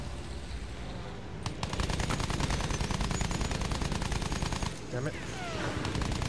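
Rapid machine-gun fire in a Battlefield 1 World War I battle rattles loud and sustained through most of the clip, with dense overlapping shots and a brief curse spoken over the din.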